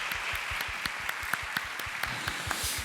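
Congregation at a church service clapping to welcome a soldier forward, a brief steady round of applause with rhythmic claps audible through the wash.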